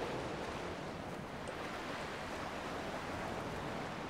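Steady sea waves rolling onto the shore in the video game Dear Esther, a continuous wash of surf with a faint windy hiss, even in level and moderately quiet, with no voices.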